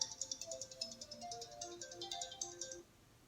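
A mobile phone plays a bright, repeating melodic ringtone nearby, chiming in quick bursts for nearly three seconds and then stopping. The ringtone is fairly quiet and sounds alone, with no talk.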